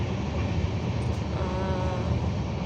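Interior of a moving overnight passenger train near Asansol at night: a steady low rumble of wheels and carriage with faint rattling, continuous and without talk.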